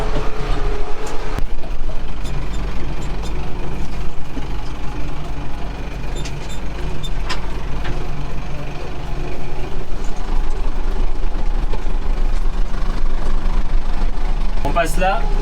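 A farm tractor with fully mechanical controls and two hydraulic valves drives steadily over rough farm ground, its engine rumbling loud and continuous throughout, with clattering and creaking at times and a voice talking over it.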